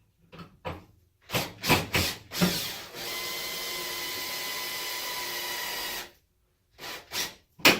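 Cordless power drill whirring steadily for about three seconds while a microwave is mounted over a stove, bracketed by short bursts of clattering and thumping from handling parts and tools nearby.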